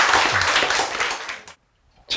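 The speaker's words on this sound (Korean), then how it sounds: "자, 박수!" Audience applause in a classroom-style Bible lesson, a dense burst of clapping that rings out for about a second and a half, then stops abruptly before a brief new flurry at the end.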